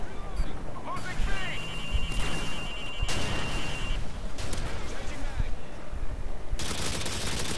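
Heavy weapon gunfire in Call of Duty Modern Warfare 2, aimed at an attack helicopter during a Domination match, with dense rapid bursts and explosions mixed with game sounds.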